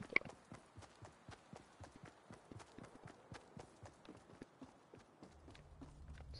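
Footsteps in the video game Fortnite patter in a quick, regular rhythm, faint and continuous, with a low buzzing tone creeping in near the end.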